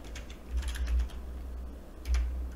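Someone types on a computer keyboard in quick, soft clicks at close range, with a low steady hum underneath.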